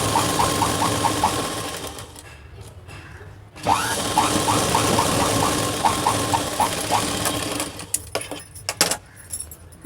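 A sewing machine stitches the folded hem of a child's petticoat, running in several short, steady bursts with a pause and a restart partway through, close and clear, ending in a few faint clicks.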